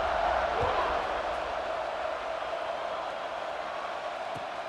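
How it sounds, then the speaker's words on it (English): Stadium crowd in the College Football 26 video game, a steady broad roar of a large audience buzzing without a break after a score, loud and continuous throughout. "this crowd is buzzing after that last score"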